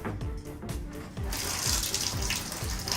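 Water dripping and trickling through a kitchen strainer into a bowl, a close, steady patter that swells into a fuller running stream partway through, no talking.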